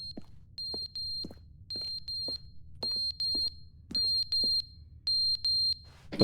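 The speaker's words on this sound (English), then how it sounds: "I heard a beeping." High electronic beeps in The Stanley Parable come in paired bursts, five pairs at an even rhythm, with soft clicks between them over a quiet background.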